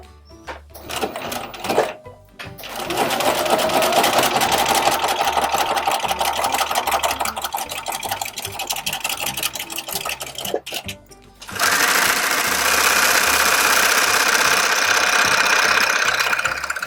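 A sewing machine stitching around the edge of an applique, running in a long steady whirring buzz with a brief pause, then resuming louder and faster for several more seconds.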